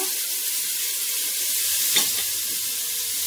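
Pork hisses and sizzles steadily in a hot pan as it fries and browns, with a constant bright crackle and a brief louder spit midway.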